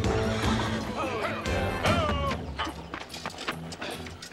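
A horse whinnies loudly with a rising and falling neigh, accompanied by hoof clops and scuffling, fairly close by.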